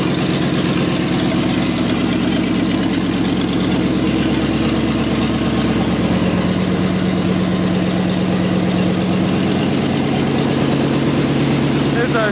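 A custom-built SdKfz 250 halftrack engine, just started and warming up: a steady, loud, throbbing idle runs continuously close to the recorder, with a voice briefly heard over it.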